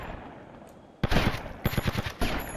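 Video game gunfire in GTA Vice City, a loud burst of rapid automatic shots after a quiet second, followed by further short volleys.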